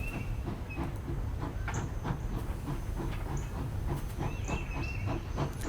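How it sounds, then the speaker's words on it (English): A stopped train idles at a station platform in The Lion's Song video game, giving a steady low rumble with soft hissing steam and faint metallic clicks, with no voices over it. "Given that the train has stopped just for me, the dispatcher seems awfully calm that I'm not boarding."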